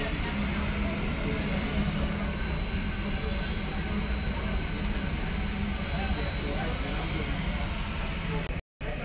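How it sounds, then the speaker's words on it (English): A jet airplane roars overhead on approach, a loud, steady broadband rumble that fills the whole stretch before cutting out abruptly at the end. "That's my plane coming in."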